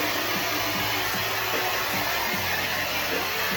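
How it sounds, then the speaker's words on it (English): A hair dryer fitted with an attachment blows on curly hair, making a steady, loud, continuous whir with slight fluctuations in airflow and no talking. "It dries your hair, but it also crushes your curls up."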